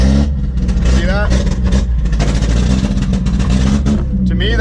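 A vandalised car's engine is revved hard at full throttle, a loud, sustained roar with rising and falling pitch that stays prominent throughout, with a voice talking underneath.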